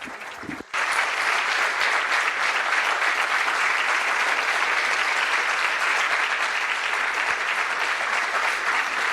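Ceremony audience applauding the woman president of the International Union of Notaries: a brief noise, then a large hall of sustained, dense clapping, loud and even for several seconds.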